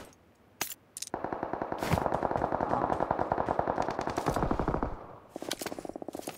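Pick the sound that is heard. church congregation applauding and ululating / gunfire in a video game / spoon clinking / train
gunfire in a video game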